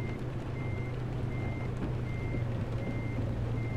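Evenly spaced reversing beeps repeat about six times from a backing truck in the driving game Euro Truck Simulator 2, a steady high tone pulsing over a constant low engine drone, with no voices.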